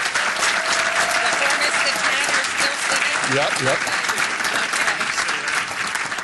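A city council meeting audience applauds the team's players with sustained, dense clapping that holds for several seconds, as a voice speaks briefly partway through.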